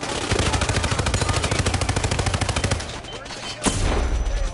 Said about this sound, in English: It's just a flashbang, I'm not hurt.